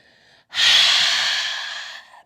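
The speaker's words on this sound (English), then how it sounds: "Breath in, open mouth, breathe out." During yoga, one long, loud open-mouthed exhale rushes out for about a second and a half, set between soft, quiet breaths before and after.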